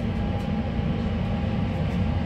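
An Amtrak Pacific Surfliner train's end passes nearby, giving a steady broadband rumble and rolling roar with no distinct horn.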